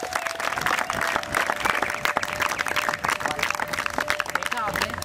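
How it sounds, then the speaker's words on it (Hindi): Classmates in a classroom clap for a student named Abhilasha, a lively, uneven burst of hand claps with some voices mixed in, continuing throughout. "जोरदार तालियां हो जाए अभिलाषा के लिए।"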